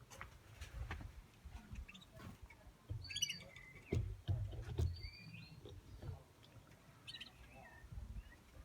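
Young first-round canaries in an aviary give scattered high chirps and short tweeting calls. The calls are faint and sit over a low rumbling background, and no one speaks.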